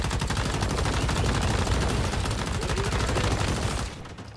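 Sustained automatic gunfire in Once Human, loud and close, a dense rapid stream of shots running for several seconds before cutting off abruptly.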